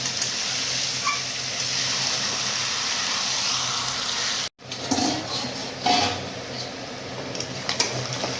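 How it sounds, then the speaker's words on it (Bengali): Water gushes into a pot of browned mutton curry in a steady, loud pour that stops abruptly, then gives way to softer splashing and clinks as the pot settles, with no one speaking. "এইবারে আমি এখানে জল অ্যাড করবো।"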